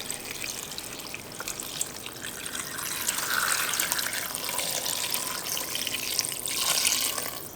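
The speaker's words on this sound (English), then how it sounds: "And then we're going to cover this with some filtered water." Filtered water pours steadily into a pot over Thai broth ingredients, a continuous close splashing gush that grows slightly fuller as the pot fills, with no talking.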